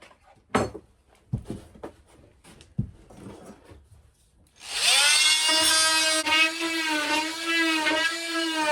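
A power tool cuts a line out of a wooden cupboard carcass on a narrowboat: a few sharp knocks and handling clatter come first, then a loud, close, steady whining cut runs until the end.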